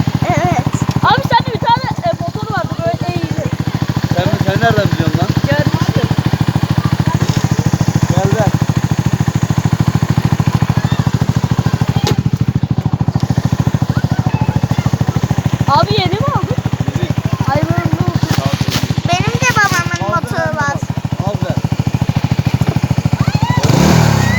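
Motorcycle engine idling and revving outdoors, a steady mid-pitched drone with occasional throttle blips, under frequent chatter and calls from nearby people.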